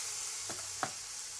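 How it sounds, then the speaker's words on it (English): A pork chop sizzles in a hot frying pan, a continuous hiss with two brief clinks or knocks of utensil against pan. "I want to be quick because I want to get a sizzle on this"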